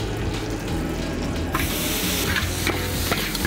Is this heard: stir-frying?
yes